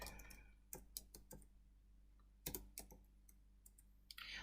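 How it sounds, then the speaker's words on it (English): Typing on a computer keyboard while writing Java code, with bursts of sharp key clicks and taps at an irregular pace, close and fairly quiet over a low steady hum. "my hands are on the keyboard in the wrong spots, and when they do that, none of the keys hit correctly"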